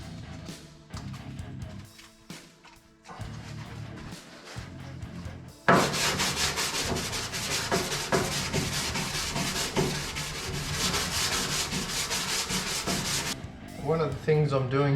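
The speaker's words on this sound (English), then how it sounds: "So I'm just going to scuff this up by hand and go from there." Hand sanding a Ford XW body panel near the fuel tank with a 240-grit pad: a quieter stretch of scuffing gives way to steady, loud, close back-and-forth rasping that runs for several seconds before easing off.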